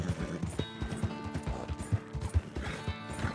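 A horse gallops in Red Dead Redemption 2, its hoofbeats landing as a quick, irregular series of low thuds close up, with a faint background of game ambience.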